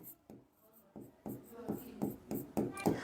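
Writing strokes on a board during a maths lesson, a series of short scratchy bursts that grow louder and more regular toward the end, close and with no talking over them.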